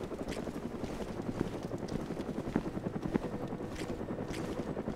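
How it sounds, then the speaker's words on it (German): A helicopter passes in the Arma 2: DayZ video game, a low rhythmic rotor chop that thuds steadily underneath at moderate, fairly distant level without any talk over it. "Ah. Ein Helikopter!"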